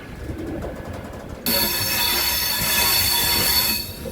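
The Venkatadri Express rolls along the rails. A quieter rumble swells suddenly into a loud, sustained metallic wheel squeal with a steady clatter beneath it, then eases slightly near the end.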